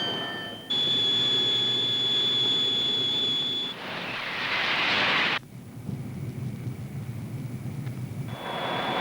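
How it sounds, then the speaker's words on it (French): The TGV 001 prototype gas-turbine train runs with a loud, high turbine whine over a broad roar that swells into a rushing blast, with abrupt cuts to a lower rumble and the whine returning near the end. "Un turbotrain. TGV très grande vitesse"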